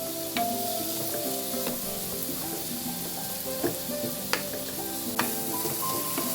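Tomatoes cook down in a pan for a shrimp dish with a constant close sizzle and bubbling, broken by a few sharp clicks and taps of a utensil against the pan, with no one speaking.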